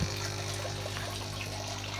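Water falling steadily through a homemade submerged-type filter in a budget aquaponics system, a continuous close splashing trickle with a low hum from a pump underneath.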